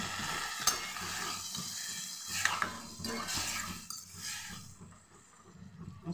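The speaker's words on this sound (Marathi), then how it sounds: "यामध्ये मी थोडंसं पाणी टाकून घेते." Water poured into a hot pan of bean pod curry with green chilli sizzles and hisses, with stirring scrapes and a few utensil clinks, steady and close, fading toward the end.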